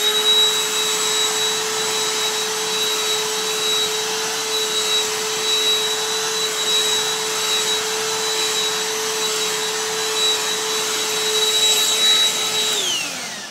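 A Black and Decker Dustbuster mini handheld vacuum runs steadily on sand with a high motor whine, loud and close, holding constant before winding down near the end.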